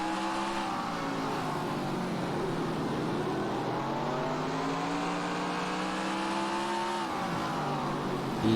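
Race car engine in the NASCAR Racing 2003 video game, a modified stock car at Riverside Park Speedway holding a steady high-revving drone, its pitch sliding as it shifts, continuous and loud with no talk.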